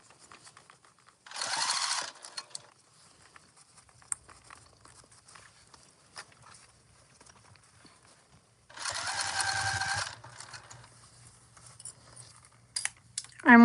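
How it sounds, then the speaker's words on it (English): A sewing machine stitches around the edge of a large tote bag in two short bursts of steady mechanical whirring, separated by a long stretch of near quiet with faint handling noise. "And we're just sewing around."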